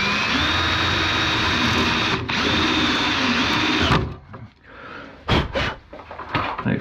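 A power drill drives screws into wood while building a camping drawer system for a Jeep XJ, whirring loudly and steadily for about four seconds, then short clattering bursts of handling noise follow.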